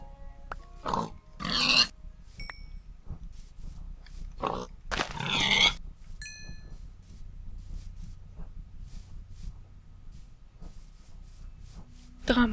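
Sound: pig grunting in the video game Minecraft

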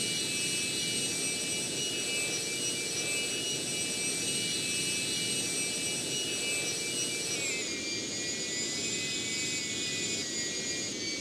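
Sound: jet aircraft engine with afterburner in a flight video game

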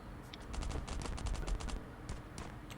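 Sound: rapid gunfire in Last Island of Survival video game

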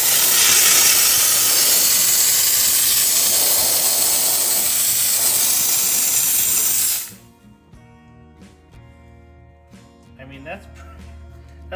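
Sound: steam cleaner spraying steam

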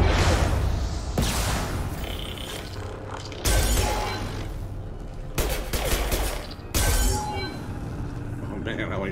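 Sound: gunshots fired in the video game Mass Effect Legendary Edition

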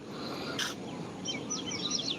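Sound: lovebird named Mango calling

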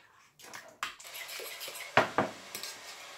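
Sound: stirring yogurt mixture in a bowl

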